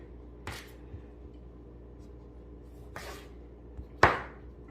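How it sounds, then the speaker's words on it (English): A knife slices through tomatoes with three brief, crisp cuts spread apart, the last one the sharpest, against a quiet kitchen background with no talk. "look at this slice of those tomatoes without any difficulty at all"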